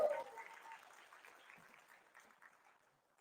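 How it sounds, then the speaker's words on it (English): An audience at a leadership summit claps briefly and faintly, a short burst of applause that fades away within a few seconds. "All right, give us a big applause."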